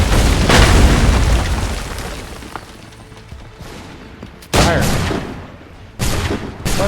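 Gunfire and cannon fire in Assassin's Creed 3, heavy booming blasts with rolling decays, one early big volley followed by two more loud cannon shots later.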